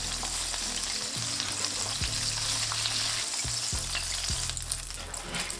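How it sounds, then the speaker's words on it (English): Breaded chicken tenders deep-fry in hot oil with a dense, constant sizzle and crackle, close by, punctuated by a few low thuds from a pan or utensil. "Here I'm also frying some of the leftover chicken tenders."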